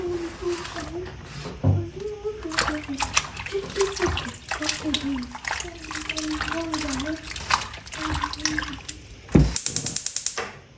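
Chopped turnips being rinsed in a bowl of water for a home-cooked turnip dish, with soft splashing and sloshing that runs throughout while someone talks over it.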